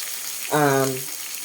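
Thawed frozen squid meat frying in a pan for squid adobo gives a steady close sizzle through the whole moment, with a brief humming tone rising over it near the middle.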